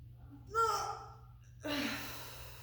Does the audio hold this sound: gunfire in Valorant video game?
no